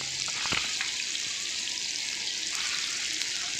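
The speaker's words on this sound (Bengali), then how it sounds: "তেল গরম হয়ে গেছে, একটা একটা করে কোপ্তা ছেড়ে দিচ্ছি তেলে" Chicken koftas dropped into hot oil in a large frying pan give a steady, even sizzling hiss with a few small sharp pops early on.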